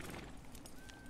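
Horse hooves clip-clop in Red Dead Redemption 2 as the rider moves between hitched horses outside a saloon, a short steady clatter of steps under a dense background of town ambience.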